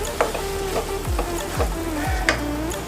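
Vegetables frying on a tawa for an Indian veg burger, a steady sizzle with several sharp spatula scrapes and taps against the iron, close and clear with no talk.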